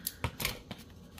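Scissors snip through 12x12 scrapbook paper, giving four or five quick, crisp cuts close by with short pauses between them and no talking.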